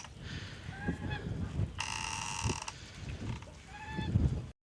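Geese honk in short repeated calls amid outdoor background noise on a homestead in western Ukraine, with a steady buzzing tone briefly cutting in midway.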